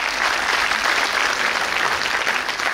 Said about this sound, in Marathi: म्हणून जोरदार टाळ्या तुमच्या सगळ्यांसाठी